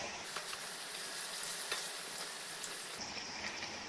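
Bhatura deep-frying in hot oil, turned so both sides go golden brown: a steady, soft, close sizzle with fine crackling and faint ticks that runs on without a break and has no talk over it.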